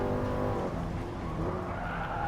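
Race car tires skid and squeal through a badly taken turn in Gran Turismo Sport, a continuous loud screech over the roaring engine lasting the whole moment.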